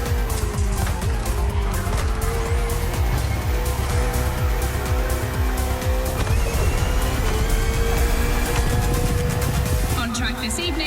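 Race cars in The Crew Motorfest video game, a KTM RC16 and a Ferrari 488 GT3 on a circuit, roar continuously with shifting engine pitch and tire noise while an announcer speaks throughout.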